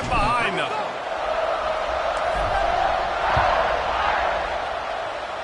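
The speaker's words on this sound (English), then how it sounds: "this crowd now ready to get behind them" Crowd noise at an American football game, a broad, steady roar of spectators holding through the kickoff and swelling slightly, heard under continuous play-by-play commentary.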